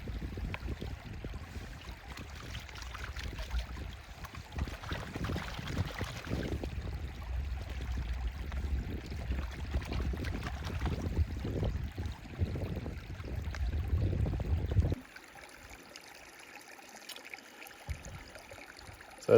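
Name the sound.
water swirling while panning sluice concentrate for gold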